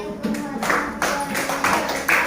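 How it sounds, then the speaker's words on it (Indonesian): Pupils in a fifth-grade civics class clapping together at the teacher's prompt, a few short bursts of hand claps close by in the classroom, with no talk. "kasih tepuk tangan dulu"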